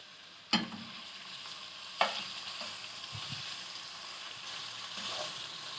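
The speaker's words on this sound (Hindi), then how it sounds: "चिकन को हम 3 से 4 मिनट के लिए अच्छी तरह कुक कर लेंगे, फ्राई कर लेंगे" Boneless chicken pieces frying in a little oil in a kadai, a steady broadband sizzle with two sharp stir scrapes early on and softer stirring later, close and alone with no talk.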